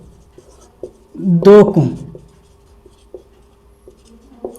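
A pen scratches out maths equations on paper with short, faint, intermittent strokes, interrupted by a voice speaking Hindi in the middle.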